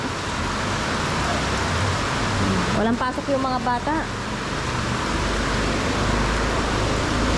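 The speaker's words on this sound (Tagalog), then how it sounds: "Sobrang lakas ng ulan dito." Heavy typhoon rain pours steadily as a dense, loud wash throughout, with a person speaking briefly over it midway.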